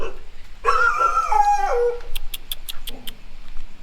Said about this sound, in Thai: จะเห่าทำไม